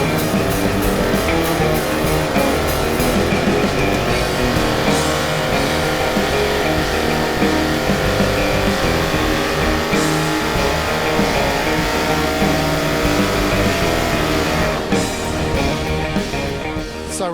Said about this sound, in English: The engine made 647 foot-pounds of torque and 808 horsepower.